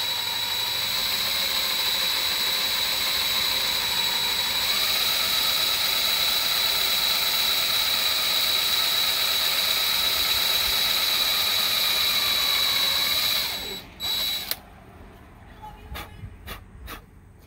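Power drill running a step drill bit through a boat hull while fitting fender cleats, a steady high whine with a pitched tone held for about thirteen seconds, then stopping abruptly and leaving brief clicks and faint handling sounds.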